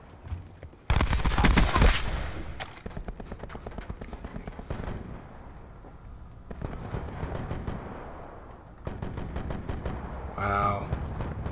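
Rapid-fire bursts from a Switchblade X9 submachine gun in the video game Black Ops 4, loud sharp volleys followed by scattered crackling shots and battle noise, with a voice talking over parts of it.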